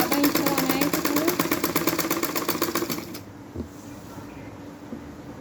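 Sewing machine stitching a skirt seam, a fast rapid-fire clatter of needle strokes close up for about three seconds before it stops, leaving low room noise and a brief bump.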